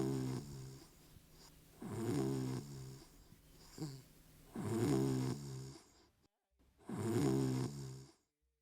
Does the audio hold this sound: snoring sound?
yes